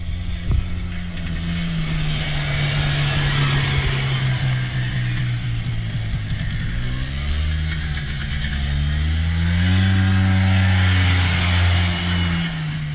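A 1999 Polaris Xplorer 300 two-stroke 4x4 ATV drones loudly and steadily as it rides past, its engine pitch rising and falling with the throttle throughout.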